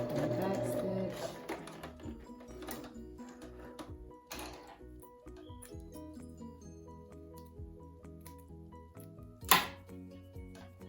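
A home sewing machine back stitching the point of a V-neck in fabric, heard as soft intermittent mechanical whirring and clicks at close range, with quiet handling sounds between bursts.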